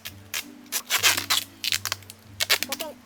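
Several short, sharp ripping bursts of adhesive tape pulled off a roll and torn to bind wood for a forest cabin, close up, with a faint low hum underneath.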